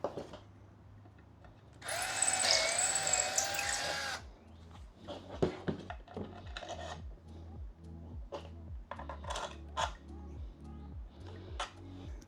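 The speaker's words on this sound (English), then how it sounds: "we're just going to run a drill bit through and" A power drill whines loudly for about two seconds as its bit bores through a panel on a Boston Whaler 13 boat, followed by scraping, rasping and clattering handling sounds.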